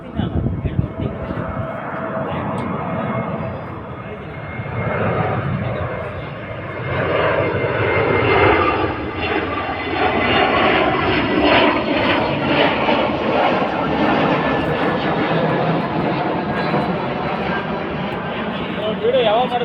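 An airplane passes overhead with a steady, loud roaring engine drone that swells and lingers for the whole stretch, while people talk nearby beneath it.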